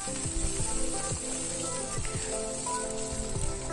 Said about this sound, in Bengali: মূলোটা হালকা করে ভেজে নিচ্ছি।